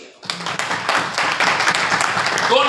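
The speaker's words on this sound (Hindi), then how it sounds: "इनके लिए तालियां होनी चाहिए।" Audience applause at a leadership training seminar, dense continuous clapping from a crowd that swells after a brief start and holds steady, with a voice talking faintly underneath.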